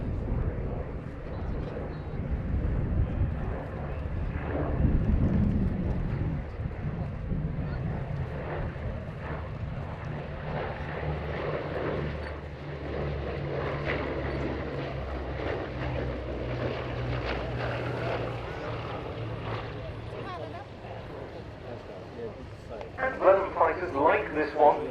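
Bristol Blenheim piston aircraft engines at Duxford during a Battle of Britain air show, a steady droning rumble with swelling passes, heard under continuous talk.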